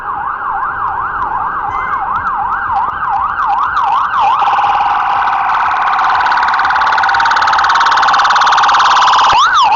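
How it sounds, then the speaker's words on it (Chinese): An ambulance siren on a street in Burnaby, Vancouver wails up and down in steady, rhythmic sweeps, then switches to a sustained, harsh tone, loud and close throughout, with no talking. "是一辆救护车"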